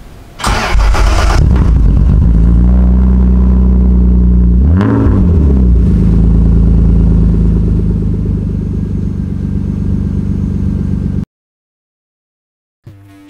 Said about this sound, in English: I'm going to cut back to the sound of the exhaust so you could hear it again.